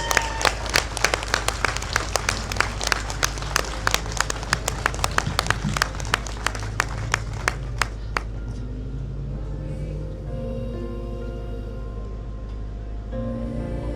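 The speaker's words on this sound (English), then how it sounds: "give her a massive round of applause, please, because it's very brave to do this" An audience at an event of emotional speeches about protecting children breaks into loud, sharp applause, a rapid flurry of close claps for about eight seconds that then gives way to a lingering hum of crowd murmur.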